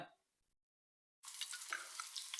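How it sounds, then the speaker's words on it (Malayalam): Curry leaves dropped into hot coconut oil in a pan for a mackerel fish curry, silence then a sudden loud, steady crackling sizzle that carries on without talk. "കറിവേപ്പില നമ്മൾ നേരെ ചേർത്ത് കൊടുക്കുകയാണ്."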